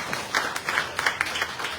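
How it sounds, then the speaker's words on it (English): A book launch audience gives a short burst of applause, sparse, crisp claps from a modest crowd lasting under two seconds. "Come on, big round of applause."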